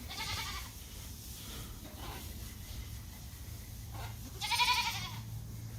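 A goat at a zoo bleats in two short nasal calls, one near the start and a louder, closer one toward the end, over quiet outdoor background.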